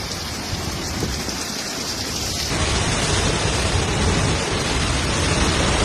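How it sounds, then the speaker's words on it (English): Heavy rain pours down continuously during a violent storm, a dense hissing roar that grows slightly fuller partway through, with no voices. "intense wind and rain swept through the city"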